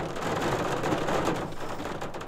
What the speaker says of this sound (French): Ah si il pleut beaucoup là.